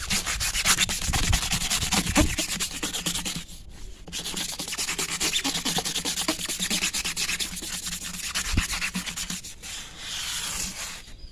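Someone scrubs a foam-lathered vehicle tyre with firm pressure, producing continuous rough back-and-forth brushing strokes, close and loud, with a brief pause midway and no talk.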